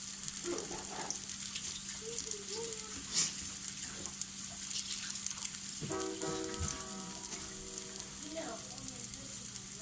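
Zucchini cakes sizzling in a frying pan, a quiet steady hiss and crackle of oil with occasional small pops, heard close and alone throughout.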